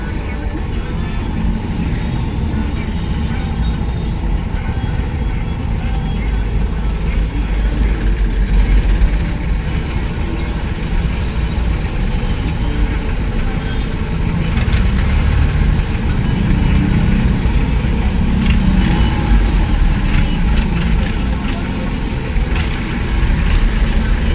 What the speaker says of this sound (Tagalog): Grabe, sobrang traffic.